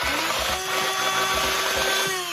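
Modified Nerf Rapidstrike blaster with its flywheels spinning up and revving, a loud, close, sustained motor whine with a steady pitch and faint rhythmic clicking beneath.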